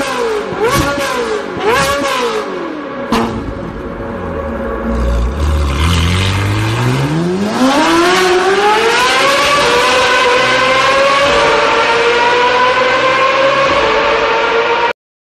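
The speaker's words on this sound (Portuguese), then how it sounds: "Então no caso aqui está o som da Ferrari aqui" A Ferrari engine revs hard, its pitch sweeping down and then climbing steadily into a loud, sustained high wail, with no gaps throughout.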